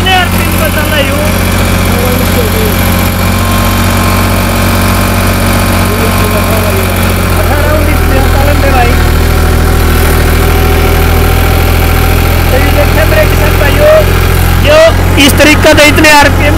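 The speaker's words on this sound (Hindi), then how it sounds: "यू न्यू ओलैंड का ट्रैक्टर है" A New Holland tractor engine running steadily in third gear, a loud close droning rumble with a constant pitch that shifts slightly partway through, and metallic clatter rising near the end.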